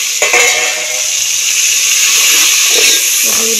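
Spiced masala sizzling and hissing steadily in a hot pan with browned onions, a continuous close frying hiss with a few faint clinks, no talking.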